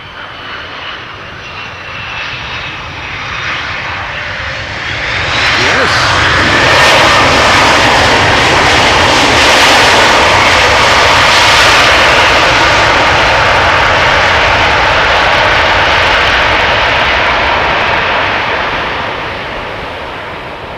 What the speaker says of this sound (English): Delta Airlines flight 136 arriving from Detroit, Michigan